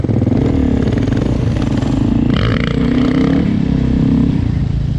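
Dirt bike engine, a DRZ400E or EXC500, revving hard in second gear for a wheelie, a loud close motor roaring and surging throughout with no talk over it.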